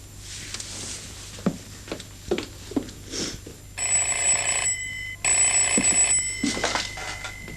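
An old telephone bell rings in a home in a 1986 film, two long loud bursts with a short pause between them, following some soft thumps and footsteps.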